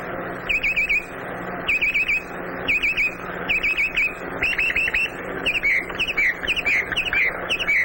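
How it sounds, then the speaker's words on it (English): A male red-winged blackbird sings at a cattail pond, its bright trilling phrases repeating about once a second in a steady series over a low, murmuring background. "The male redwing selects the nesting area and sings sweetly to persuade a female redwing"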